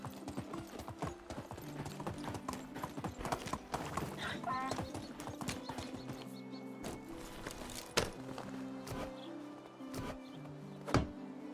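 A horse's hooves clip-clop at a slow walk as the steed approaches in the medieval survival game Medieval Dynasty, with a short whinny, scattered thuds and light ambient game sound under faint talking.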